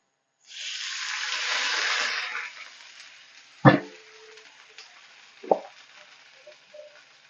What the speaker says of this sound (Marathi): एक तांब्या पाणी टाकणार आहे